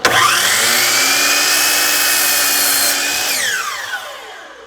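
A miter saw blade spins up and slices through a board in one continuous loud cut lasting about three seconds, then winds down as the blade coasts to a stop.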